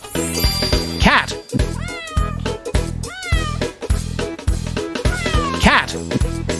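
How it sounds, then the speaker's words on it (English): A cat meows several times, rising and falling calls heard clearly over a rhythmic musical backing. "Cat."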